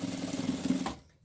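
A sewing machine runs a seam along the side of a printed fabric strip laid against the material, a steady close mechanical whir lasting about a second before cutting off.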